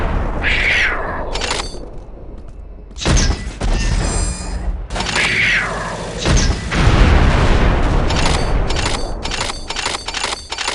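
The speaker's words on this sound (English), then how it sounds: "I've given you some incendiary grenades, so load them up and prepare for a show" Heavy booming blasts of incendiary grenades in the sci-fi shooter Unreal 2: The Awakening, several thudding detonations in sequence with rumbling fire between them, loud and close.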